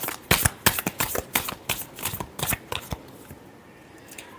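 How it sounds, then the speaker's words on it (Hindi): Tarot cards riffled and shuffled by hand in a rapid burst of crisp, close slaps and flutters, then the sound trails off into quiet. "last shuffle"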